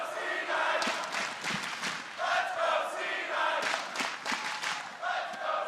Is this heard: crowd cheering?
yes